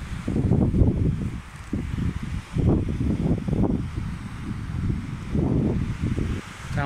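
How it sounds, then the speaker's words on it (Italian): Steady wind buffets the microphone at San Cataldo beach in Lecce, Puglia, a continuous low rumble with gusty swells and no clear voices. "C'è un po' di vento"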